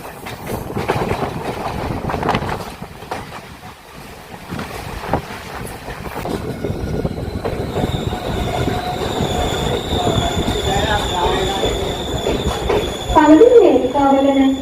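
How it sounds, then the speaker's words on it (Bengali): A train running along a seaside rail line in Sri Lanka: continuous rumbling and clattering of wheels on track, heard from on board, with high squealing tones rising in the second half and voices murmuring in the background. "শ্রীলঙ্কায় আসলে এই ট্রেন রাইডটা অবশ্যই করবেন।"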